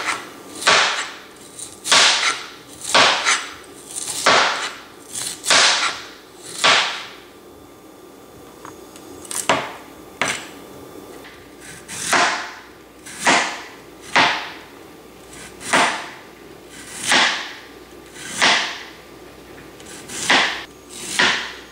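A knife thinly slices bamboo shoots for hot pot in rapid, crisp strokes, about fifteen close whooshing cuts in a fairly regular rhythm, with one short pause partway through.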